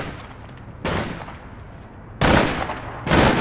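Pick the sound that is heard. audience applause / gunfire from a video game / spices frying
gunfire from a video game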